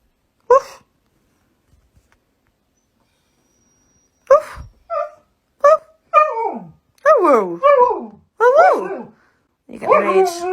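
A dog barks and howls in short, pitched bursts, close and loud, with long quiet gaps between some calls and a rising, whining quality in the later ones.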